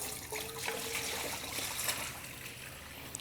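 Water poured out of a cast iron skillet, a short splashing trickle and gurgle that runs steadily for a few seconds, close by and moderately loud, with no voices.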